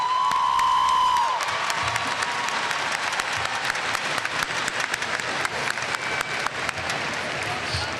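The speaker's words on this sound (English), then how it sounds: "Please join me in honoring those people who have brought you to this point with a round of applause." Sustained applause from a large audience at a 2017 high school graduation ceremony, dense steady clapping with scattered cheers and whoops, loud and continuous throughout, preceded briefly by a tone.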